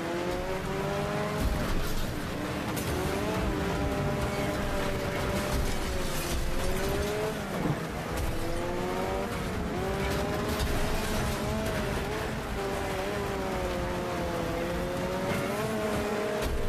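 Race cars crashing and taking damage in the video game Wreckfest: continuous loud engine roar with rising and falling pitch, tire squeals and scraping impacts throughout, no talking.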